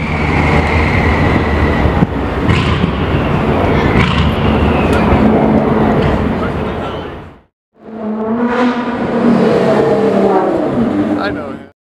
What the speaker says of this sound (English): Listen to the turbos.